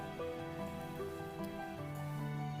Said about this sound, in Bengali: এবার কড়াইতে সাদা তেল দিয়ে খুব সাবধানে ভেজে নিতে হবে।